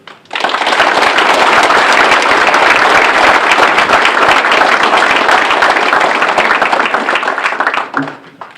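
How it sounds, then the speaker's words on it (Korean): An audience at an army division commander change-of-command ceremony applauds the outgoing general and troops, a loud, dense burst of clapping that starts abruptly, holds steady for several seconds, then cuts off sharply. "박 장군과 수고한 장병들을 위해 큰 박수를 보냅시다"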